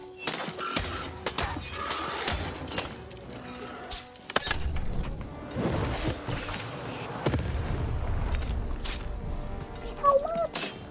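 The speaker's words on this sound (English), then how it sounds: "Shoot the button to fire the cannon." Repeated booming blasts and crackling impacts from cannon fire in the video game Lost in Random, dense and busy, with faint voices in the background.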